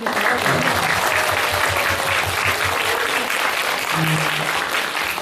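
Audience applause at a Korean poetry talk event, a dense steady clapping that fills the whole few seconds, with a faint voice briefly audible beneath it.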